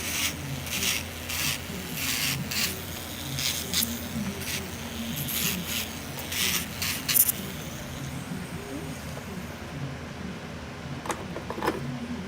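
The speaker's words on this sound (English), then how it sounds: "So this is a medium sanding band that I'm using." Repeated bursts of rasping, scratchy buffing from a medium sanding band on fingernails come in short strokes at close range over a low background hum.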